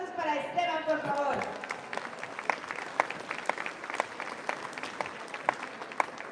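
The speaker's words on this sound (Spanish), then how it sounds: "Fuertes los aplausos para Esteban, por favor." An audience at a town queen-election event in San Mateo, Valparaíso, Zacatecas applauds. A voice speaks over the opening, then the clapping thins into a light, scattered patter of individual claps.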